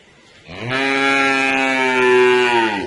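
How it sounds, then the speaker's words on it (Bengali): A Sahiwal cow, eleven months old, lets out one long, loud, drawn-out moo close by, holding steady for over two seconds. "এটা একটা শাহিওয়াল বিটের গরু"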